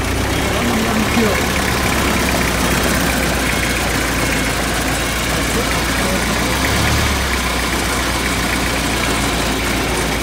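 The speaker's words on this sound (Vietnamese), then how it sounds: "Máy thì nó rất êm." Modified four-cylinder Kia single-axle truck with air brakes, engine idling steadily and smoothly throughout, a constant close low rumble with no breaks.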